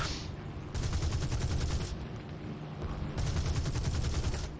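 Tail gunner machine-gun fire in the War Thunder combat flight game, two sustained bursts of rapid rattling fire over a constant engine drone, fairly near and with no talk.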